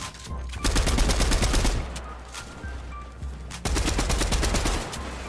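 Heavy shotgun fire in an arena-mode building shooter game, heard as rapid bursts of sharp reports in two clusters over a low rumble, with no talking.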